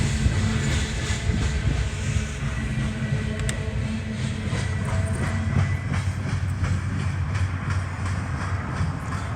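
A CSX freight train rolls past close by at the Center Street crossing in McKeesport, a steady heavy rumble with rhythmic wheel clatter and faint metallic squeals, constant throughout.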